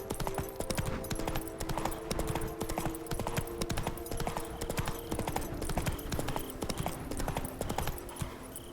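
Roach the horse gallops in The Witcher 3 Blood and Wine DLC, steady rapid clip-clop of hooves close and continuous throughout, with a faint game ambience underneath.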